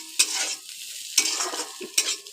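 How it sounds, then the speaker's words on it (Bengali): Bitter gourd and potato pieces frying in a pan and being stirred: three loud bursts of spatula scraping and clattering over a hissing sizzle, close by, with no talking. "মাছটা ভাজবো, উচ্ছে আলুটা ভাজা হয়ে এসছে"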